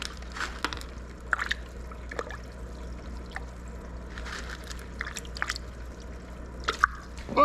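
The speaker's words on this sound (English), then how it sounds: "We got splashed on that one." Sunfish splash at the surface of a home aquarium while being fed pellets, giving scattered small splashes and drips spread through the clip over a low steady hum, fairly quiet and with no talking.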